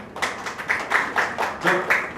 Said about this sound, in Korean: 우리 첫 번째 한 분이니까 박수 한번 쳐주십시오